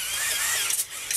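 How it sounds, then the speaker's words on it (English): A hand-turned pepper grinder cracks black peppercorns for slow-cooker pork tacos, a steady close, gritty rasp running just over a second with a couple of brief sharper crunches near the end. "This is just a pepper grinder, so let's grind a little here"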